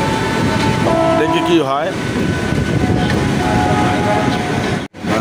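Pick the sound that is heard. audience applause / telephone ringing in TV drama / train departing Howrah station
train departing Howrah station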